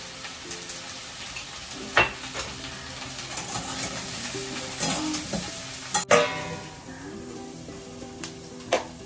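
Vegetable curry of Malabar spinach cooking in a pan, a steady sizzle broken by intermittent scraping stirs and a few sharp utensil knocks, close and alone without talk.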